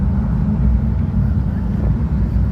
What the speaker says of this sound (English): I hear the engines revving there.